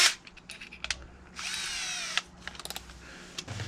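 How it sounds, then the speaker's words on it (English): A power drill bores a hole in a brake bleeder bottle cap: short clicks and trigger taps, then a steady whirring burst of just under a second, followed by more scattered handling clicks and a brief restart. "So then you're gonna wanna drill a hole just off to one side of the cap."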